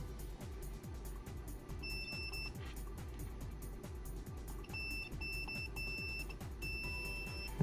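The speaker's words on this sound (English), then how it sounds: "take my multimeter, continuity mode, set it so it'll beep" A multimeter set to continuity mode gives several short, high-pitched beeps as wires are touched to laptop battery connector contacts, the beeps irregular and varied in length over a low background hum.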